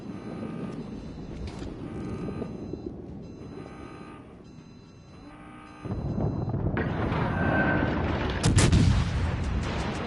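Naval gunfire from the cruiser Atlanta in World of Warships Legends, a steady barrage of booming salvos with engine drone underneath, swelling into louder heavy blasts near the end, no talking.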